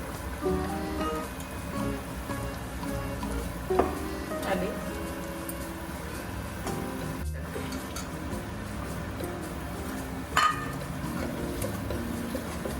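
Chili powder, turmeric and coriander powder sizzle steadily in hot oil for jackfruit subzi, a continuous close frying hiss with occasional stirring clinks and knocks from the pan.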